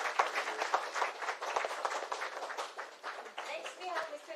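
Audience applause at a Business Continuity Awareness Week event, with steady clapping from many hands at moderate level and an announcer's voice speaking over it.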